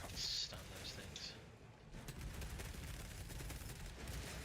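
Venom cannons fire in the Space Marine 2 video game as a few quick, sharp bursts at the start, set against a faint, continuous battle rumble.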